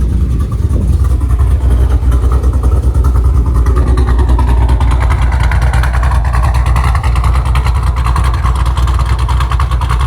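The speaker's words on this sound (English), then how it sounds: "Let me get out and show you guys the idle again." A 426 Hemi in a Dodge Challenger idles loud and close, a deep, lumpy rumble that holds steady throughout, with a slight rise in pitch partway through.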